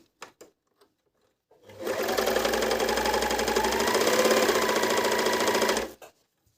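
A Medion MD10685 overlock sewing machine stitches thick knit fabric, starting after a few small clicks and running in one steady, loud, close mechanical whir for about four seconds before stopping.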